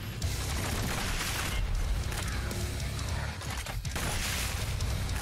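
Dense, continuous gunfire and explosive combat noise from shooting enemies in the video game DOOM Eternal, loud and chaotic throughout with booms and crashes layered together.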